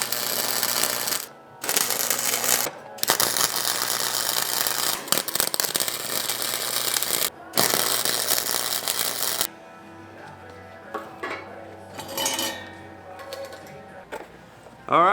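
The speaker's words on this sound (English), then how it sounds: "I'm gonna actually grab my wire welder, a couple tacks on each side," A wire welder laying a couple of tack welds in a shop, with loud bursts of buzzing crackle separated by short pauses, followed by quieter clanks and tool handling.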